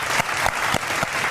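Studio audience applauding the technical crew and camera operators on a Georgian TV talk show, steady dense clapping with rhythmic accents throughout, fairly loud and close.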